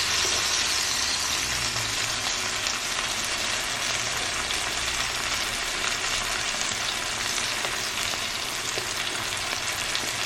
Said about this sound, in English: you just cook the lemon enough to get it like golden on both sides